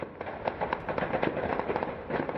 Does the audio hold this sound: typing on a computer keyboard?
no